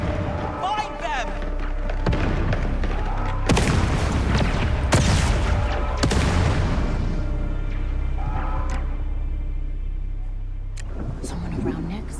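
Explosions set off as fireworks in the Star Wars Outlaws video game burst as loud booms and thuds, several big blasts in the first half with rumbling debris, then fading into quieter action sounds under occasional voices.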